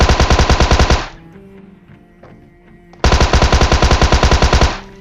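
A Tommy gun fires in a video game as two loud, close bursts of rapid automatic shots, separated by a short lull of quieter game noise.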